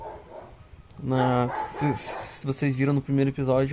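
Dogs in Genshin Impact bark in a quick series of sharp, loud yaps close by, several barks clustered in the second half, while someone speaks over them.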